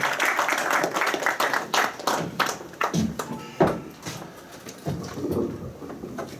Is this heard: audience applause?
yes